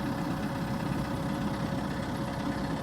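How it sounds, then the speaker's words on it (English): A tractor engine idles steadily, a close, constant low rumble with a faint mechanical hum and no pauses or voices. "So I'm on the tractor."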